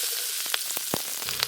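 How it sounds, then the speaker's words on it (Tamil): Onion, green chili and cashew sautéing in a hot pan, a steady close sizzle of frying with a few brief stirring clicks and crackles on top, no voices. "வெங்காயம், பச்சை மிளகாய், முந்திரிய மூணு நல்லா வதக்கி அரைச்சு எடுத்துடணுங்க"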